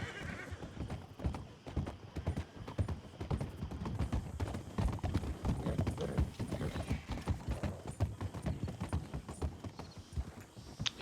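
Horse hooves clip-clop steadily and up close in the western roleplay game RedM, a dense continuous rhythm of hoofbeats with a horse whinnying, while faint voices murmur underneath.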